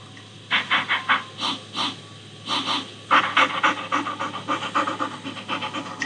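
Dogs in the Nancy Drew game Ghost Dogs of Moon Lake pant in quick rhythmic bursts, a steady run of breathy huffs with a low hum underneath and no speech.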